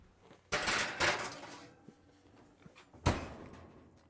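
Pans clatter as sweet potatoes go into the oven in a home kitchen. Two sharp metallic clunks come close together, then a third one after a pause, with quiet rustling in between.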